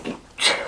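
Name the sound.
sneeze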